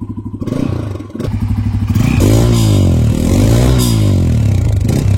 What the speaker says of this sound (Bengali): আপনাদেরকে এটার এক্সস্ট নোটটা আরেকবার শোনায় দিতেছি